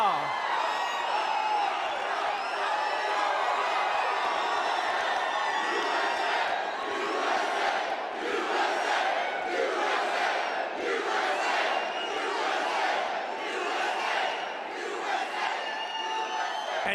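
A large crowd at a political rally cheers and roars continuously, with rhythmic waves of shouting swelling through the middle, loud and close throughout with no clear single voice standing out.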